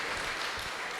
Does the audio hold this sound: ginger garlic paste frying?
no